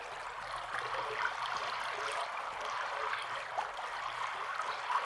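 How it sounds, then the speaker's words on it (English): A generated river stream effect for a game gives a steady, continuous rushing and trickling water wash at moderate level, with no voices. "So now we have our river."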